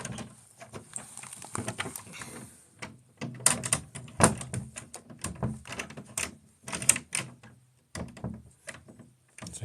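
A door in a kids' room at an old bed and breakfast is pushed shut and latched, making a run of sharp, close clicks, knocks and rattles in irregular bursts with quiet gaps between them.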